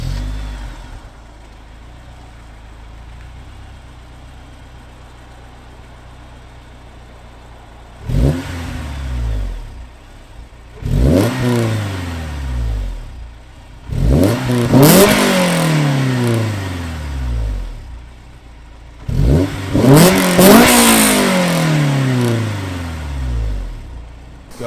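A Honda S2000 AP1 idles low through Fujitsubo exhaust pipes, then four sharp revs climb and fall away, each one louder and raspier than the last, close and with no talk.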